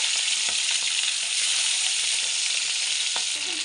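Pomfret fish fry in hot oil with a loud, steady, close sizzle that holds constant from start to finish, broken only by faint taps and clinks.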